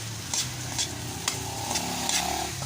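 Grilled pork sisig stirred in a pan, a spoon scraping in broad strokes every half second or so over a steady sizzle of frying meat, close and moderately loud with no talk.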